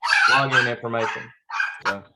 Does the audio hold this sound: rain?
no